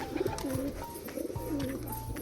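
Pet pigeons being released by their keeper coo softly at close range in short, repeated throaty phrases, fairly quiet overall.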